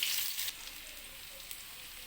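Onion and garlic sautéing in a little oil for mussels, a bright loud sizzle at first that quickly settles into a quieter steady hiss, no talk.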